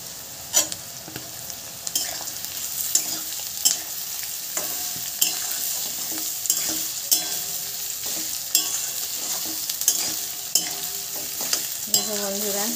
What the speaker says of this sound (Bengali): এবার আদা আর রসুন বাটাটা অ্যাড করব